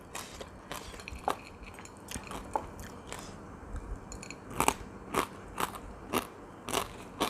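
Crunchy deep-fried whitebait being bitten and chewed up close, a run of sharp, crisp crackles and crunches in irregular bursts that quicken toward the end, alone and without talk.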